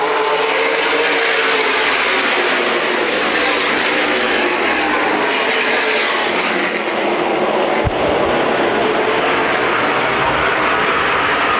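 Race cars roar past in a dense, loud pack on the oval at the CRA Super Series Winchester 400, engines sustained and overlapping, with a sharp thump near the end.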